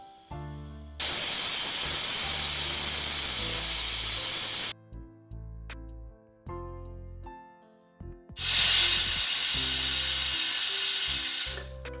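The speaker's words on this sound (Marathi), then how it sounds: "लावूया कुकरचं झाकण आणि मस्तपैकी दणदणे तीन चार शिट्ट्या तरी आपण ह्याला करूया" Loud bursts of hissing steam from a pressure cooker, two long blasts separated by a quieter gap with clicks and small knocks.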